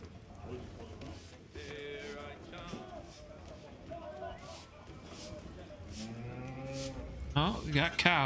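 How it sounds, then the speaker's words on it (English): Cows low repeatedly in Assassin's Creed III Remastered, several drawn-out moos at moderate distance over farm ambience, growing louder toward the end, with a voice talking faintly underneath. "Oh, we got cows."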